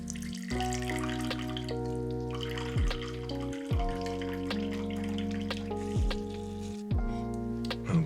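Hot water flushes through an espresso machine, trickling and splashing at a low level with shifting tones and a few soft drips.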